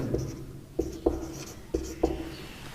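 Marker or chalk writing on a board, five short, sharp taps and strokes spaced irregularly over a faint background hum.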